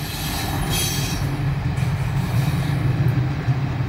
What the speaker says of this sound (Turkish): Trenlerimiz de gitti.